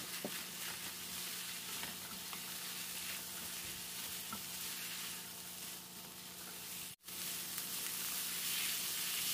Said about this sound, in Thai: ผัดให้ดอกหอมโดนความร้อนทั่วๆจนเริ่มสุก